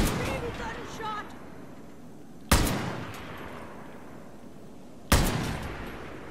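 Gunshots in the video game Far Cry New Dawn, three sharp loud reports spaced about two and a half seconds apart, each trailing into a reverberant decay, with brief speech before the first.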